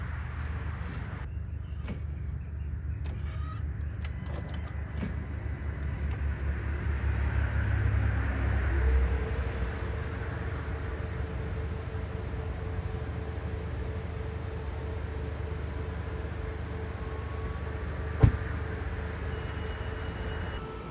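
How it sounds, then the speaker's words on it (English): Honda Clarity running with its air conditioning on during an R-1234yf recharge, a steady low engine and compressor hum with a constant fan whine, one brief click near the end, no talking. "let me turn on the car and turn on all the valves."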